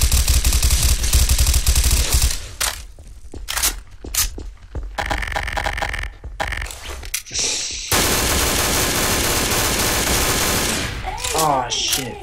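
Gunfire in the video game Garry's Mod comes in dense, harsh bursts of rapid shots, broken by abrupt silent gaps and then resuming loudly and up close.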